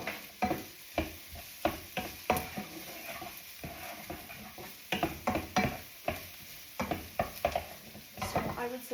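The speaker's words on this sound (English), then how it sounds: "So my onions, we'll just give them a little stir here" Onions sizzle softly in a pan while a utensil stirs them, giving a series of light scrapes and clinks against the pan in uneven bursts, fairly quiet and close.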